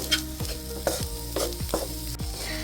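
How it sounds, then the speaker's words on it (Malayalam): Tomato masala sizzling in a pan for a milky mushroom roast while a spoon stirs it, steady frying hiss with regular scraping strokes about twice a second, close up. "സിമ്മിലിട്ടിട്ട് നന്നായിട്ടൊന്ന് ഇളക്കി വേവിച്ചെടുത്താൽ മതി"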